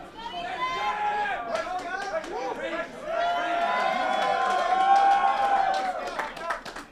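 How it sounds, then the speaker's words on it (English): Arena crowd at a judo submission-only event in Las Vegas cheers and shouts steadily for about seven seconds, a dense roar of voices with scattered clapping swelling toward the middle and easing near the end. "Crowd really showing their appreciation for the acrobatics here."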